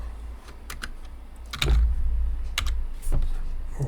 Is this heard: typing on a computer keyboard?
yes